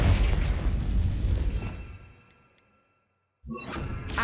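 Hogwarts Legacy's Confringo blasting curse detonates in a loud, booming burst that rumbles and fades into near silence, then another sharp blast erupts near the end.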